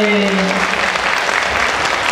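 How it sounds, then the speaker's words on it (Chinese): An audience claps in loud, continuous applause at a kindergarten graduation ceremony, with a brief tonal sound at the start under the clapping. "给我们热烈掌声"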